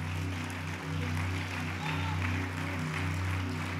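A church audience applauds during a sermon, an even patter of clapping spread over sustained keyboard chords and a low hum, with no one speaking.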